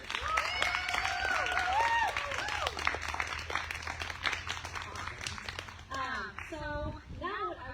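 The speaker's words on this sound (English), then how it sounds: "Let's do another round of applause for all our speakers." An audience applauds speakers at a cross-border solidarity gathering on trade, with steady dense clapping and voices over it for about six seconds before the clapping fades and a single speaker talks alone.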